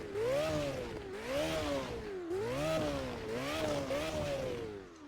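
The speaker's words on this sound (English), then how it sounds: "Let's give some revs." A Lamborghini Temerario engine revved in a series of rising and falling blips, about four or five pulls in a row, each climbing in pitch then dropping back, heard moderately loud with no talking over it.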